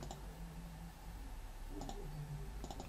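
Computer mouse clicks, small sharp taps in quick pairs spaced a second or so apart, close and faint over a steady low hum.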